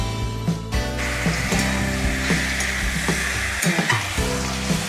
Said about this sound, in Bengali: রসুন বাটা দেব, একটু অল্প সামান্য ভাজা ভাজা একটু হলেই